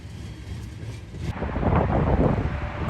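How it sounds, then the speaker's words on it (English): A grain train crossing a diamond over the CSX Burt Line rumbles past outdoors, a steady low roar that swells louder and broader midway with wind buffeting the microphone. "this grain train will be crossing over the CSX Burt Line on a diamond"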